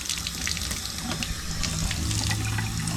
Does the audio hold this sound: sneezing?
no